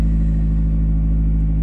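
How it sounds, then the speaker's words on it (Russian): Mazda MPS engine with a non-stock aftermarket exhaust, idling loud and close with a deep steady rumble and constant low hum, no voices. "Это всегда немного громко, потому что на МПС-ке все-таки не стоковый выхлоп"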